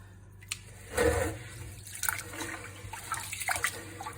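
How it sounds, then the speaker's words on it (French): Rice washed by hand in plenty of cold water while preparing riz au gras: close splashing and sloshing in uneven bursts, with a drippy, trickling tail and no voices. "vous lavez le riz à l'eau froide avec beaucoup d'eau"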